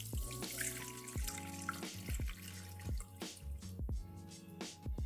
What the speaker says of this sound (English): I'm going to get another bowl with the strainer and then just start pouring the whole mixture in